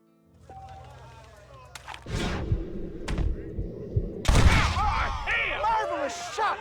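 Gunfire in the Western video game Red Dead Redemption, a few sharp heavy shots and thuds followed by a burst of overlapping shots and ringing echoes, loud and close.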